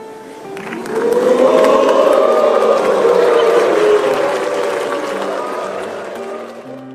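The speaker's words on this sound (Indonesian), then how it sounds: "Memang terdengar suara tepuk tangan, tetapi sorakan para hadirin terdengar lebih kencang seolah diserukan di seluruh penjuru gedung MPR" An audience in the MPR building at a presidential inauguration breaks into applause and loud, sustained cheering that swells after a second and echoes through the hall before slowly fading.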